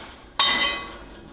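A cast iron skillet pulled warm from an oven gives a single sharp metallic clank with a bright ringing tail that fades over about a second.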